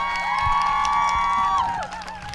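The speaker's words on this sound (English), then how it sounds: "Can we real quick give a round of applause for Josh Berger" An audience at a speaker-series event cheers for speaker Josh Berger, with loud sustained whoops and shouts that fade near the end. Crowd noise rumbles beneath.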